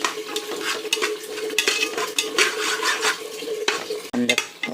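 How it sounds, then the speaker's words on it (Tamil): White chickpeas sauté in a pan for chana biryani: a close, lively sizzle broken by quick spatula scrapes against the metal and a sharp clink near the end. "சென்னா போட்டு நல்லா வதக்கலாம்."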